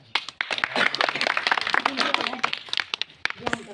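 Scattered hand clapping at an outdoor village snake-charmer style street performance, a burst of irregular claps close by, mixed with talking voices.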